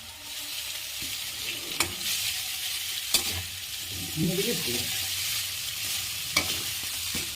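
Chow mein stir-fries in rice bran oil with a bright, steady sizzle, broken by sharp periodic clacks and scrapes of the utensil against the pan.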